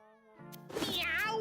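A cartoonish kitten meows in the video game Mewgenics, a drawn-out rising and falling cry that swells in loudness over a soft tonal backdrop.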